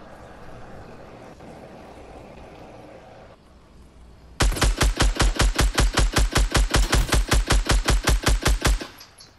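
Sustained automatic gunfire in Fortnite Battle Royale: a loud, rapid, evenly spaced burst of around two dozen shots that starts abruptly after a quieter rumbling background and stops just as suddenly.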